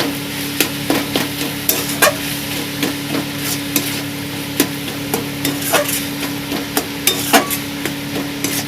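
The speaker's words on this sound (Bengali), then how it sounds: "আমি ভালো করে কষিয়ে নিচ্ছি মশলাটা" Spices sizzle in a hot pan while a utensil scrapes and taps the metal in a steady, repeated stirring rhythm, with a low hum underneath, as masala is fried down for a pointed gourd chicken dorma.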